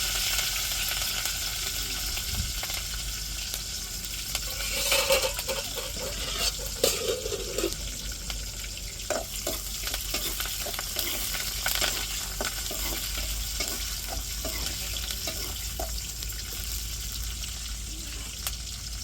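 Curry leaves and small onions drop into hot oil already crackling with mustard seeds and urad dal in a home kitchen pan, giving a steady low hiss with a brief burst of louder spitting and scattered pops throughout.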